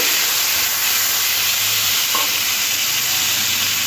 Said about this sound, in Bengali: মটরশুঁটিটাও সব কিছু একসাথে ভেজে নেব।